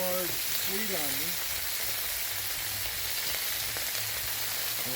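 Sliced sweet onion sizzles on a hot Blackstone griddle, a steady broad crackling hiss close by, with someone talking briefly at the start and a low hum underneath.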